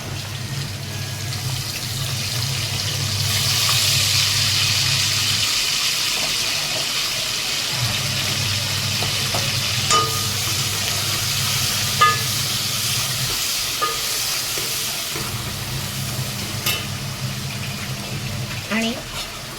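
Ginger, garlic and green chilli paste sizzling in a hot pan for an egg dish, a steady hiss with a low hum and scattered clinks of stirring.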